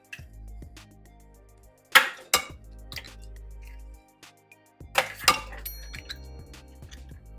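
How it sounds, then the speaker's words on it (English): Eggs cracked and whisked in a bowl for ravioli dough, heard as close, bright clinks and taps of utensil against bowl in two loud clusters, with quieter scraping and tapping between. "So I will crack all of my eggs in here and pre-mix them"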